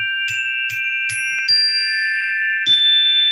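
A small bell is struck several times in quick succession, each hit giving a bright metallic ding that rings on with sustained tones overlapping into a shimmering chime, with no talking.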